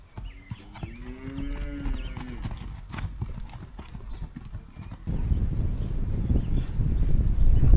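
Horses on a ranch walking, hooves clip-clopping in a steady irregular rhythm, with a drawn-out moo or whinny early on and louder broadband outdoor noise taking over in the second half.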